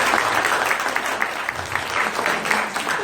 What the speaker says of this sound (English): So let's give a big round of applause for them for their hard work and